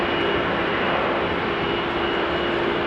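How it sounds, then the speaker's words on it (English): An airplane taxiing at Amsterdam Schiphol Airport on a rainy, wet day gives a constant, loud engine roar with no change in level across the short span. "Then they'll request clearance to taxi and start taxiing"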